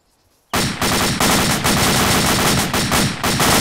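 Machine gun fire in a Duck Hunt shooting game: after a brief quiet moment, loud sustained automatic bursts hammer on with short breaks between strings of rapid shots.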